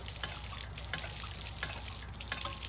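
Water from a hand-pumped well splashes and trickles steadily onto the ground at a rural spot, a continuous gurgling stream with faint intermittent clanks of the pump.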